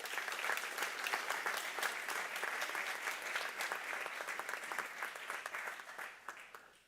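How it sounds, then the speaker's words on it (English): An audience at a Sports Product Management commencement ceremony gives sustained, warm applause for Dr. Roger Best. The dense clapping holds at an even level for several seconds, then gradually thins and fades out at the end. "please join me in giving him a warm round of applause"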